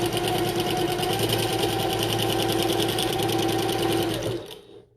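Sewing machine back stitching on a bucket tote, a loud, fast, steady mechanical whirring run that stops abruptly near the end.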